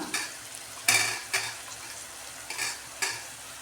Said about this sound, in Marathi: आता आपण त्याच्यामध्ये टाकूया एक टोमॅटो बारीक चिरलेला भाजून घेऊ